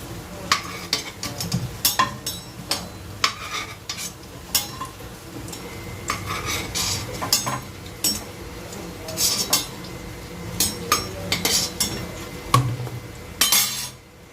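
Metal utensils stir, scrape and clink against a wok as fried onion fritters (peyaji) are lifted out, with a faint sizzle of hot oil underneath; the sharp clatters come in an irregular, close rhythm throughout, with no talk.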